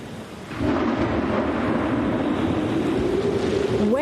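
A storm sound effect starts after half a second of quiet, then rolls on as a loud, sustained roar of thunder and crashing waves, with no voices over it.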